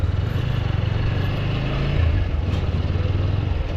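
A TVS Apache motorcycle idles and pulls in first gear, its steady mid-pitched engine drone with a low rhythmic pulse running close and continuous throughout.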